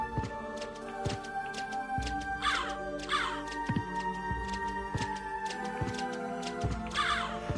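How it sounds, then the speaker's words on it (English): Crows cawing in the video game Castlevania: Symphony of the Night, harsh repeated caws scattered through the passage over a steady musical game backdrop with ticking elements, no voices. "Silly crows."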